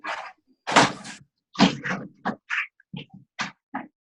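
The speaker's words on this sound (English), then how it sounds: "gosh, dogs are so loud." Dogs barking loudly nearby in a quick irregular burst of sharp barks and yips, separated by short silences.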